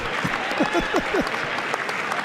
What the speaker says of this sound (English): Oh, Justice Alito is clapping.